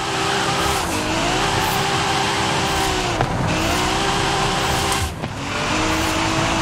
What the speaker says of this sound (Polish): Patrz jakie wyprzedzenie podczas driftu